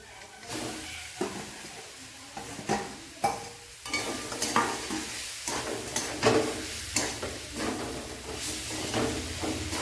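Peanuts and eggplant frying in a pan while being stirred, a steady sizzling hiss broken by repeated scraping stir strokes throughout, close and moderately loud.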